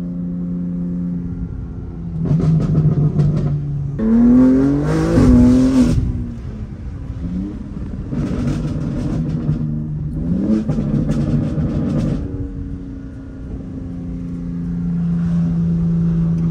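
A BMW M3 Competition engine, Stage 2 tuned to 600 horsepower, revs and accelerates hard through several gear pulls, rising and dropping in pitch, loud and close.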